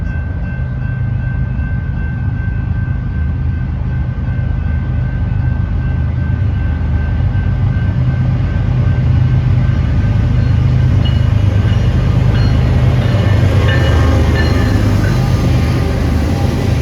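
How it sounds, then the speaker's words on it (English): A BNSF freight train with four mid-train DPU locomotives rolls past loudly and steadily, a continuous deep rumble of engines and wheels with a faint high whine, no voices. "Our next train of the day is led by Bnsf number 7348 with 4 mid-train DPUs"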